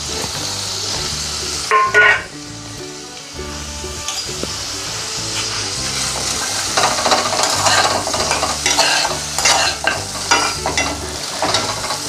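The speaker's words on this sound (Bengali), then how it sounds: "গ্রিন সবজিগুলো একটু টাইম নিয়ে ভাজতে হবে।" Green vegetables being stir-fried in a pan for fried rice give a loud, close sizzle with frequent clattering stirs and scrapes of a utensil against the pan, steady throughout apart from a sharper burst early on, without any speech.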